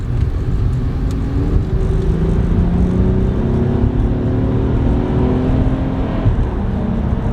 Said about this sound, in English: I'm going to pull out here and just give a nice little acceleration for the video